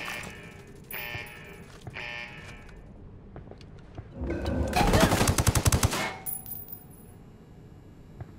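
Burst of automatic machine-gun fire in the Ghost Recon shooter game, a loud rapid rattle lasting about two seconds midway, preceded by fainter scattered shots and followed by a ringing tail.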